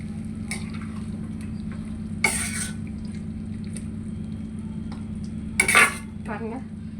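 A salted mixture is turned and tossed in a cooking pan, giving two short bursts of metallic scraping and clatter over a steady low hum, with quiet gaps between them.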